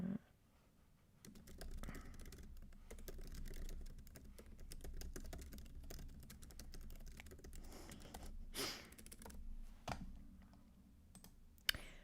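Typing on a computer keyboard sounds as a fast, continuous stream of close, soft key clicks with occasional brief pauses and a louder tap near the end, with no one speaking.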